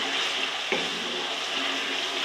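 Masala and sarson ka saag fry in a pan as water is poured in, a constant close sizzle with a brief hissing surge where the water hits, and no talking.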